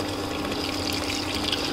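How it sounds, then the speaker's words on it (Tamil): Water added a second time to a simmering paneer butter masala gravy, giving a steady, close liquid pouring and bubbling wash that runs evenly throughout with no talking. "இப்போது நான் கிரேவிக்கு தேவையான அளவு தண்ணியை ஆட் பண்ணுறேன்"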